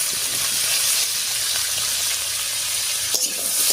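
Diced papaya fried in a pan with salt and turmeric keeps up a continuous sizzle, with faint scraping as it is stirred, close and steady throughout.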